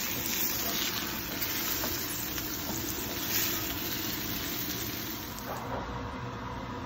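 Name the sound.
sizzling sear on a bone-in prime ribeye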